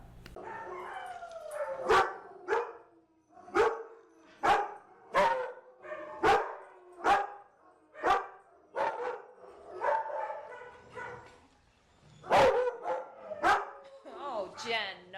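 A dog barks repeatedly inside a kennel, sharp, loud barks in an irregular rhythm over about fifteen seconds, with a short whimpering yip near the end.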